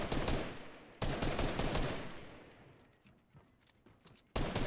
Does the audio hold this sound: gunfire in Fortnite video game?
yes